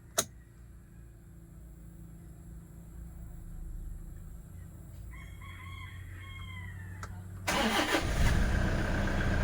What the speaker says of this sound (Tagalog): bali start na tayo ng engine mga kamaster